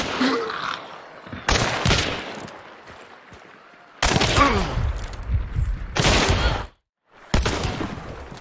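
Gunfire in the video game Hunt: Showdown: several loud bursts of shots, some sharp and others rolling like rapid fire, separated by short quieter gaps.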